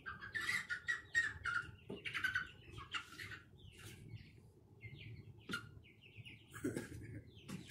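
Six-week-old Cornish Cross chickens in a group give repeated squawks and chirping calls, fairly close and moderately loud, with shuffling noises between calls and no talking.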